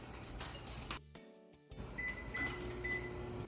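A microwave oven's steady electrical hum drones on, briefly cuts out, then resumes with a faint high whine, running nearby.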